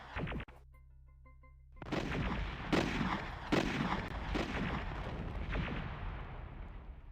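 Grenades bursting one after another in the Aliens: A Comic Book Adventure video game, after a short tonal game-interface jingle, with sharp, loud blasts and crashing debris that keep the mix dense to the end.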